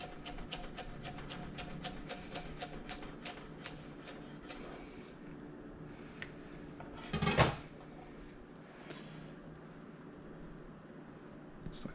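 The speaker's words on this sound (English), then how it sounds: "basil will do just fine. Slice it real thin." A knife slices basil thinly against a cutting board in a fast run of soft, close taps, broken by one louder clatter partway through.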